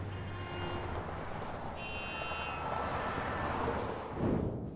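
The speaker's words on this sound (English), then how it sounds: "The noise of traffic." Traffic ambience with a continuous broadband roar of passing vehicles and a brief high tonal horn or alarm layer, steady and fairly loud, swelling near the end as something passes close.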